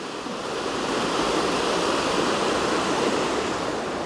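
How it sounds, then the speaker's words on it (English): River water rushing under a bridge at Hawkridge, Somerset: a loud, steady broadband roar of flowing water filling the whole span, close by, with no speech. "This is the bridge down here, and that is the expanse of the river at this point."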